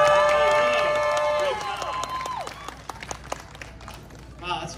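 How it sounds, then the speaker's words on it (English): Audience applause and cheering at an outdoor K-pop dance performance during a Chinese New Year festival in San Diego, a dense wash of clapping and shouts that stays strong throughout, with voices and a tonal sweep in the first half. "how about another round of applause for CTRL.ALT."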